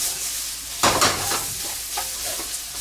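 Raw carrots sauté in a pan over slightly higher than medium heat, a steady soft sizzle with a sudden burst of louder crackling and stirring around the one-second mark, then settling back.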